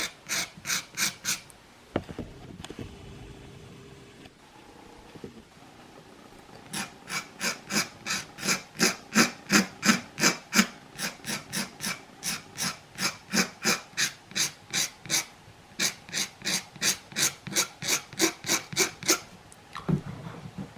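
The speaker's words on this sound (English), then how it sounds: "See how I'm etching in right there? Just kind of scraping parts of it away to the more textured look." A pencil etches and scrapes into a pastel drawing in quick, regular back-and-forth strokes, close and crisp, with a brief pause near the start before the rhythmic scratching resumes for most of the time.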